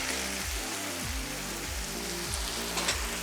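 Oil and hot water poured over tahdig rice sizzle and crackle in a steady, dense hiss that carries on without a break from start to finish and sounds close, with a low rumbling hum running beneath it.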